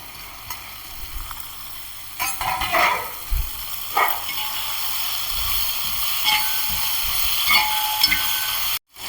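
Green peas and beans sautéing in a pan for a vegetable biryani, a soft sizzle with occasional stirring scrapes and clatters, fairly close, with no voices.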